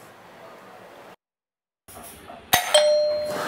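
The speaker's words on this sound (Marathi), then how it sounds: "बेल वाजलं." Doorbell rings indoors with a bright two-note chime that rises sharply and lingers, following quiet room tone and a short silence.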